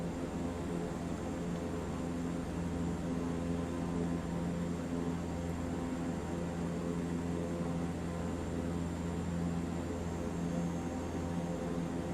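Super Scooper firefighting plane flying over mountains, fully loaded with water, in Microsoft Flight Simulator 2024: a continuous, even engine drone and airflow hum that holds steady throughout with no other sounds.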